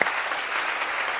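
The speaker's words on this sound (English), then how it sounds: "Where my applause at?" Dense, even applause from an audience greeting a guest on stage, loud and close, a continuous wash of many hands clapping for just over a second without voices.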